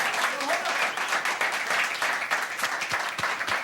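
Studio audience applause on a 1991 talk show, a dense sustained clapping crowd with a voice speaking over it.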